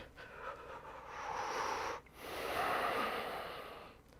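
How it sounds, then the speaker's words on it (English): During a yoga session, a person takes slow, deep breaths into the belly and chest, two long airy inhales and exhales heard close, separated by a brief pause, with no talking. "All we want to do here is breathing in deeply into the belly, into the chest"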